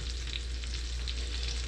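Coot gizzards frying in hot oil in a pot, a steady close sizzle and crackle with no voices over it.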